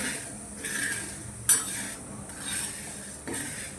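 Whole green mung beans dry-roasting in a hot pan, stirred with scraping spoon strokes that come in repeated bursts, with one sharp clink near the middle; quiet and close, with no talk.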